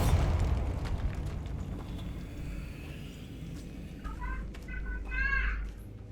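A Bombarda spell blast in Hogwarts Legacy opens with a loud, broad burst, then fades into a rumbling tail under a low, steady drone, with a few short chirping magical effects near the end.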